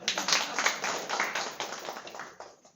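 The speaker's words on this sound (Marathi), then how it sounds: "आता टाळ्या वाजवा." A small gathering claps briefly, a few seconds of uneven hand claps at a devotional discourse on the Dnyaneshwari that fade out at the end.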